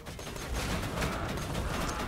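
A dense, steady rattle of video game gunshots plays close and continuous, short sharp cracks layered over each other with no voices heard.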